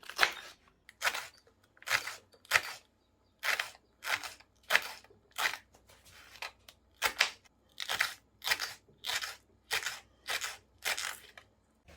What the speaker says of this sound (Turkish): Biber keselim.